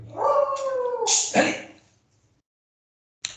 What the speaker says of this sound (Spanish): Lo único es el ruido del perro.